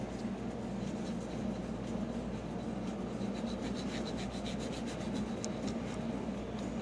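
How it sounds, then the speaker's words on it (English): A 1986 Nintendo Kid Icarus game cartridge is wiped and cleaned, producing a steady, close rubbing and rasping sound that continues throughout with a faint squeak, and no talking. "I'll just keep wiping it off and cleaning it."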